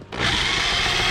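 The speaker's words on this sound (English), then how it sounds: "Drilling holes, oh yeah!" Power drill boring holes while running electrical wire on a patio, the motor kicking in abruptly and then whirring steadily and close for about a second, no one talking.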